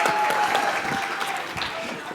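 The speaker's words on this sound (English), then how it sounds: "Give these boys a round of applause." Audience at a trade expo pitch competition applauding briskly, a burst of clapping hands with scattered voices and a whoop over it, tapering slightly toward the end.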